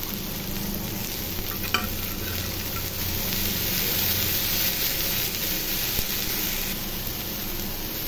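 Chopped okra with urad dal, curry leaves, dried chilli and onion sautés in a pan, a loud, constant close-up sizzle with steady stirring throughout.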